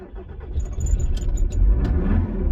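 Car engine cranking and catching, then settling into a steady idle close by, no talk.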